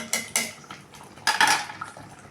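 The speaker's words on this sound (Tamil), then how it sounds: "மெதுவாக இப்படி போட்டுக்கலாங்க பன்னீர்." Paneer cubes being added to butter masala gravy in a pan, heard as a few close, sharp clinks and scrapes of utensil against cookware in two brief clusters, with no talking.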